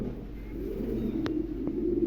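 Pigeons coo steadily in a pigeon shop, a low continuous burbling from several birds nearby, with one or two brief sharper sounds cutting through.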